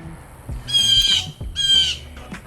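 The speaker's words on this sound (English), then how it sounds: "These damn birds." Two loud, harsh bird squawks, each lasting about half a second, ring out close by in a room where reptiles are being unboxed.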